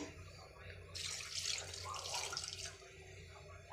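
About a quarter litre of water pours steadily into a pressure cooker of mutton for about two seconds, a bright splashing rush that then fades to quiet room noise.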